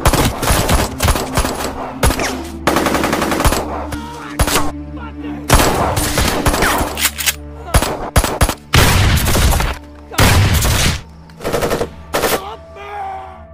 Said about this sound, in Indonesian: Di sana salah satu mereka telah ditembak oleh Brooke